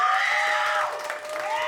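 A comedy show audience cheers and applauds for a performer, a loud, sustained wash of crowd noise that swells and then eases slightly.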